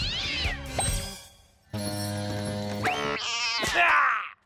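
Azrael, the cartoon cat from The Smurfs, lets out a few loud, close, drawn-out meows and yowls, with voiced cartoon character sounds between them and no spoken words.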